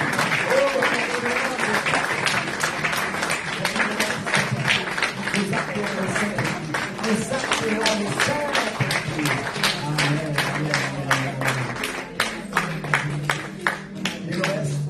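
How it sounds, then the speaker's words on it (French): A worship congregation at a Sunday service claps in a strong, regular rhythm, sharp beats repeating steadily for about fifteen seconds, with singing or voices and low music sounding beneath the clapping. "Applaudis le Saint-Esprit. Applaudis la personne du Saint-Esprit."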